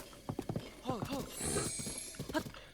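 Horse hooves clip-clop in Breath of the Wild as a rhythmic patter of hard, close steps, broken by a short rustle, while a voice talks over part of it.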